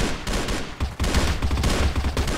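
Dense, rapid gunfire from a video game gunfight during an esports match rattles on for the whole stretch in loud overlapping bursts, with no voices over it.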